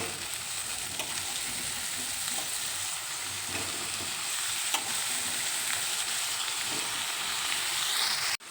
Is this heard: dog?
no